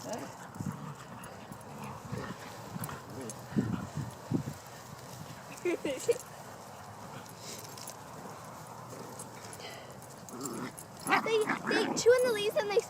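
A herding dog works a group of animals, giving scattered barks and yips amid shuffling hoof sounds, with people talking nearby.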